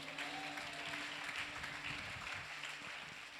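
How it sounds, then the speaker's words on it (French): A church congregation applauds during a sermon, a steady wash of distant clapping that stays even throughout, with a faint hum running underneath. "On peut applaudir Saint-Esprit pour ça."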